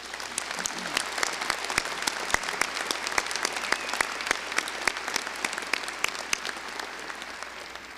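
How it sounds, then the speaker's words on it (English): A university commencement crowd at Weber State applauds retiring faculty and staff, producing a dense, even roar of many clapping hands with crisp individual claps, sustained and loud throughout. "Let's give them a round of applause."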